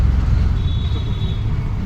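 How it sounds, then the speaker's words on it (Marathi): Steady engine rumble and road noise from inside a moving auto rickshaw, loud and continuous, with a faint whine above. "आम्ही इकडनं आताच रिक्षा पकडलेली आहे"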